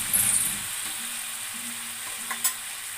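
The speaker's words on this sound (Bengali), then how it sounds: "একটু সামান্য জল দাও, তাহলে মশলাটা থেকে জলের ইয়েটা হবে" Masala spices for a soybean and potato curry sizzle loudly in a pan after a splash of water goes in. A steady, bright frying hiss runs throughout, with a couple of brief spatters near the end and no voices.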